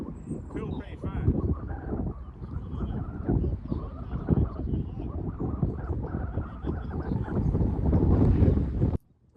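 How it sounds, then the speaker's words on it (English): Strong gusts of wind up to 66 mph batter the microphone in loud, buffeting bursts that swell and build, then cut off abruptly. "these gusts were pretty insane"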